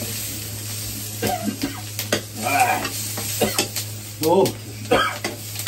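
Onion and garlic sizzling in a frying pan while being stirred, a constant frying hiss with scraping stir sounds, a voice briefly murmuring and a cough over it.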